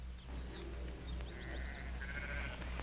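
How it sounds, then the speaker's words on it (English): Faint, distant sheep bleat repeatedly, overlapping high wavering calls against a constant low background rumble, with no talking. "Adam, I can get those sheep on the move."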